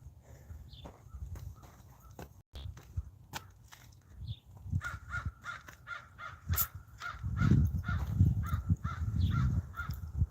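Crows caw repeatedly at a distance outdoors on a rural property, irregular calls scattered over a steady low rumble with occasional thumps and footstep-like sounds.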